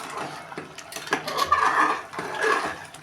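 A spoon scrapes and clinks through mushroom biryani rice in a pot, with short irregular stirring rasps and light metallic knocks close up.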